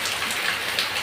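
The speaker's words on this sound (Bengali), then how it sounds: "বাইরে বৃষ্টি হচ্ছে" Rain falling outdoors makes a steady, dense hiss of drops pattering on surfaces, even and unbroken throughout.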